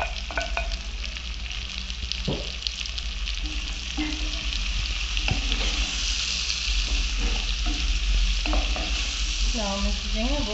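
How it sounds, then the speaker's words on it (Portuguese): Garlic, onion and pimenta de cheiro pepper sautéing in a pan, a continuous loud sizzle with intermittent stirring scrapes throughout, close up and with no voices. "Agora aqui eu vou jogar o alho, a cebola e a pimenta de cheiro. A gente tá dando uma refogada nesse ingrediente aqui"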